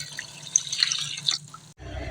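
One liter of water pours steadily into a bowl with a splashy, trickling sound, stopping abruptly before a low thud.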